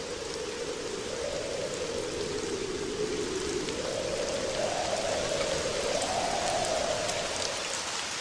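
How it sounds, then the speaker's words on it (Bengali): Steady rain falls without pause, a dense, even hiss of drops pattering on surfaces, with no voices. "সেই সকাল থেকে বৃষ্টি হয়েই চলেছে।"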